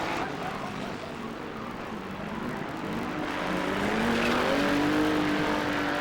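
Banger racing cars lap a stadium track, engines droning and swelling as a car revs up and passes closer, with the rising whine growing louder toward the end.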